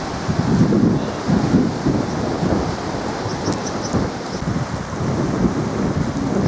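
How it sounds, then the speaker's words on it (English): A swollen river in a dale running fast, heard as a loud, steady, broadband rush of water with wind buffeting the microphone and no talking. "The river is well swollen and running fast."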